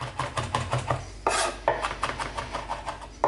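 Peeled garlic crushed and finely chopped with a knife on a wooden board, quick irregular taps and rasping scrapes close up, with a short pause midway before the rhythmic chopping resumes.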